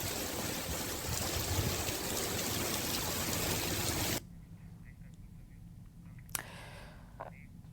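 Floodwater rushing through flooded market streets after about two hours of torrential rain in Hindaun City, Rajasthan, a loud, steady broadband roar that cuts off abruptly midway to a quieter background with a few faint knocks.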